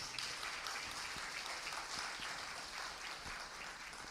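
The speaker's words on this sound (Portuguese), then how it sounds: "Vamos colocar em pé, aplaudindo ao Senhor Jesus mais uma vez." Church congregation standing and applauding during an evening worship service, continuous steady clapping from a crowd at moderate distance throughout.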